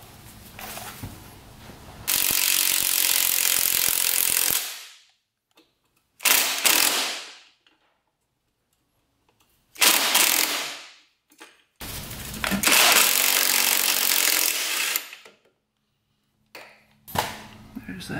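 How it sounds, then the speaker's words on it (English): Hand ratchet removing the swing arm nut on a 2-stroke race quad, several loud bursts of rapid clicking separated by pauses, close up in a workshop. "Swing arm nut coming off."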